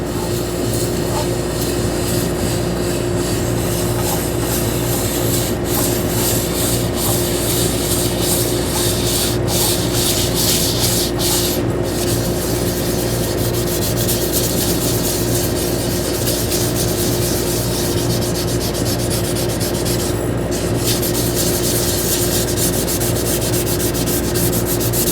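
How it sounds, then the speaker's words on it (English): Wet sanding with Yorkshire Grit abrasive paste and 300 grit sandpaper makes a loud, continuous scrubbing rasp, steady and close, running unbroken throughout. "So basically I'm going to be wet sanding with Yorkshire Grit."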